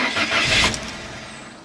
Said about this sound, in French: techniquement, le moteur démarre, mais cale aussitôt